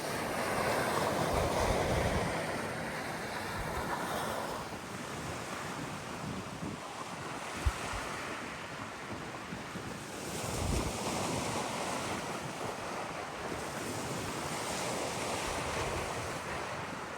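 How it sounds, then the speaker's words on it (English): Roller wake from a passing ship washing ashore on the Columbia River: steady broadband surf rush with swelling surges, mixed with wind buffeting the microphone, continuous and fairly loud, no talking. "Now here's the waves coming in. The roller wake from that ship."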